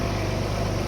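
An Alfa Romeo 156 V6 idles roughly just after start-up, its air intake not properly mounted, giving a close, steady low engine rumble with an uneven pulse.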